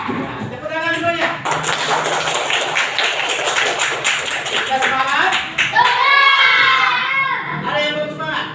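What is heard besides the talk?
classroom children clapping hands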